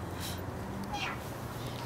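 A fluffy, well-groomed stray cat gives a couple of soft, faint meows against steady background noise.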